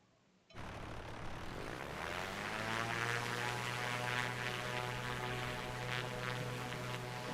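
A small propeller plane engine, heard in a Katmai National Park setting, kicks in abruptly after a brief near-silence and then holds a steady, close droning hum with a strong low tone for the rest of the clip.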